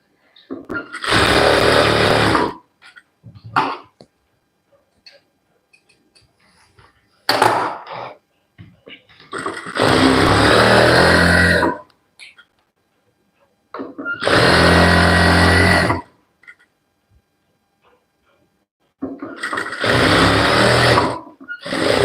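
A sewing machine stitches an Aari work blouse in loud, fast bursts of a few seconds each, separated by quiet pauses with faint handling noises.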